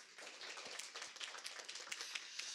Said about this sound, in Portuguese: Uma salva de palmas para o Rony